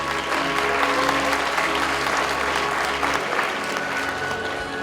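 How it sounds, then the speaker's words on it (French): Sustained audience applause at a youth talent awards ceremony as a trophy is handed over, steady dense clapping filling the room for the whole stretch with a low hum underneath and no talk. "On applaudit très très fort."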